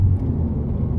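A 2018 Honda Civic Si launching from 3,500 rpm gives a brief, loud, steady engine roar with low rumble, close by and without voices.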